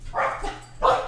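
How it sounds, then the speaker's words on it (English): Dogs, including puppies, barking indoors at home, giving two close, loud barks about half a second apart. "Got barking dogs"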